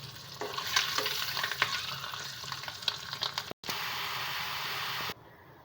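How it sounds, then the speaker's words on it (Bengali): Animal skin frying and being stirred in a small pan with oil, a steady loud sizzle broken by scraping stirs, cutting out briefly and then continuing as a plain hiss. "চলুন এখন চামড়াটা ভাজবো"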